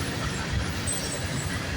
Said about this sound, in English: we got surrounded by trains.